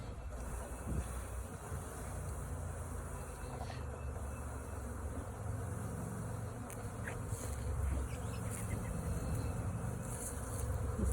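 A dense, steady buzz from a swarm of about 10,000 honeybees shaken from a three-pound package into a hive, close and continuous, with faint outdoor wind and handling noises beneath.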